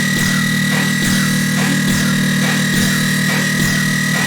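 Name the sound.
layered sidechained dubstep synth sounds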